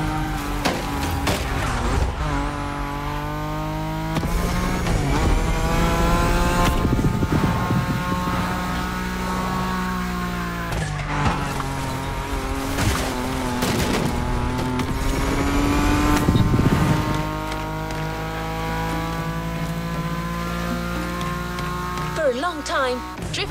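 Cars drifting in The Crew Motorfest video game: engines rev and rise and fall in pitch through repeated slides, with loud tyre squeal and continuous close, roaring motor sound while a voice talks over it.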